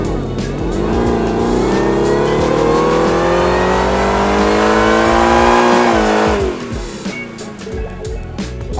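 Whipple-supercharged Ford Raptor R engine revving hard and steadily on a dyno, a loud sustained climbing roar for about six seconds before easing off to a lower rumble.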